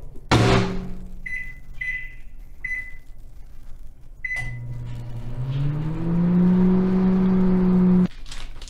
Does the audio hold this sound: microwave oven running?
yes